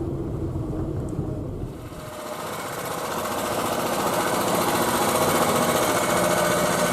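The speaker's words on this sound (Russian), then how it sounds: "Заводят мотик." Motorcycle engine started on a riverbank, building into a steady, loud, rapid mechanical chatter that settles into a continuous running drone.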